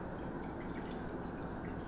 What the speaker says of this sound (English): Tazo classic chai latte. And we're just gonna pour this in first.